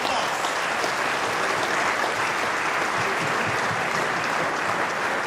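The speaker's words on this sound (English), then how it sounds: "Let's give the governor a round of applause." Dense, steady applause from a large audience at a Lagos tourism economy forum, loud and sustained throughout with no pauses, a broad wash of many hands clapping together.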